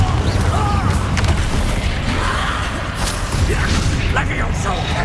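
Spell explosions and booming blasts from combat in Hogwarts Legacy, several loud bursts and rumbles in quick succession over busy battle noise.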